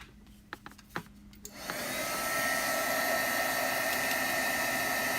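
A heat tool drying a watercolor-painted card starts after a few light taps and clicks, then blows as a loud, steady whooshing roar that holds to the end.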